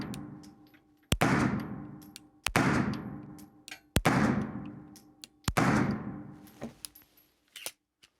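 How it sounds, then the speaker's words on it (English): Stoeger STR-9 compact 9mm pistol firing five +P rounds at an indoor range, each sharp close report followed by a long booming room decay, spaced about one to one and a half seconds apart. "Five shots, no failures to feed, fire, or eject, but it didn't hold open."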